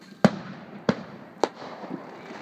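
Privately set-off firecrackers pop over a river during Fourth of July celebrations, three sharp separate bangs at spaced intervals, each trailing a short echo, with a fainter crackle near the end.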